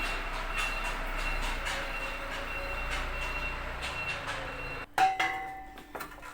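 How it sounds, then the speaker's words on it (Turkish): Car and engine noise from a nearby workplace outside drifts into a home kitchen as a low, steady rumble with faint tonal beeping, then a sharp nearby clatter and a few knocks near the end. "Dışarıda da iş yeri olduğu için araba sesi, motor sesi her şey geliyor içeri."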